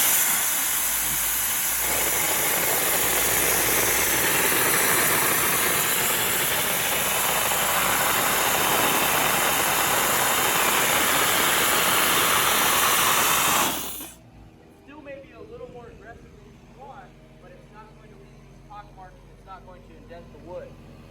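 A Cold Jet dry ice blasting machine cleaning wood on setting 3, with the pellets broken up, gives a loud continuous roaring hiss that stops abruptly near the end, leaving quiet room sound and a voice talking.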